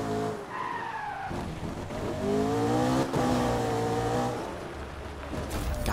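A McLaren in the Need for Speed Rivals racing game, engine revving up through gear changes with rising whine and squealing tires as it skids and accelerates, loud and close with no talking.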